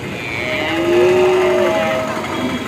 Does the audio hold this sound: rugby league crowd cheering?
no